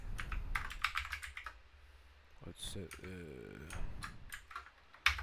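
Computer keyboard typing in bursts of quick clicks, some louder keystrokes standing out, with a person speaking briefly in the middle.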